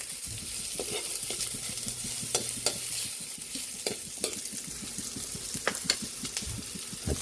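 Onions sizzling and frying in a pan with steady hissing, while a utensil scrapes and stirs in repeated close knocks, no talking.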